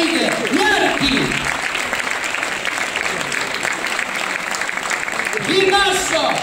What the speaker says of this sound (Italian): Applaudite, applaudite!